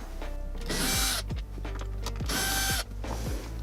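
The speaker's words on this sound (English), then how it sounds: "So we're going to take out the 3 screws along the top." A power driver whirs in repeated bursts while backing screws out of the dash cavity of a Lexus GX, with short ratcheting pauses between runs. It is close and clear, with no talking.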